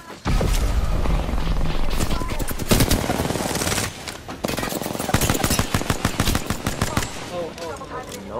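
Akimbo guns firing in Apex Legends, long bursts of rapid automatic gunfire, loud and close, with a short pause midway before fast crackling shots resume.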